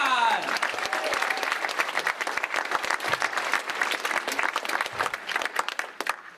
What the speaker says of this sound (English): Let's have a big round of applause for Irwin and the Advocate's Office for putting this together.